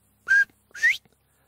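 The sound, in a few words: northern bobwhite quail whistle call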